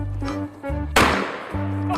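A toy makes an electronic shotgun-shooting sound: one sharp, loud blast with a short noisy tail, set among repeating buzzy electronic tones from the toy.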